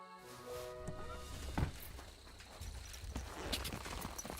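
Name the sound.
horse hooves galloping in the video game Kingdom Come: Deliverance 2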